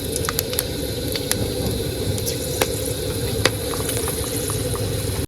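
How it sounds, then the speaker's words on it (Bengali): Whole garam masala spices sizzle loudly in hot oil, a close, constant hiss and crackle broken by occasional sharp pops. "তেল গরম হয়ে গেছে গোটা গরম মশলা ফোড়ন দিয়ে দিলাম"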